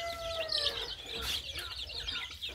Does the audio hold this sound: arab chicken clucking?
yes